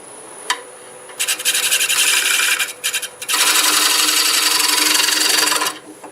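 A parting tool cuts into a wooden bowl on a lathe, about an eighth of an inch deep, producing loud close rasping bursts, a short one, a brief pause, then a long steady scrape before stopping.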